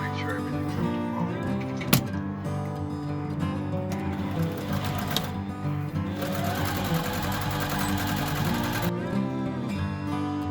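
A sewing machine runs steadily while stitching t-shirt fabric, its rapid mechanical whirring close and continuous, with a brief sharp knock and a spoken voice partly over it.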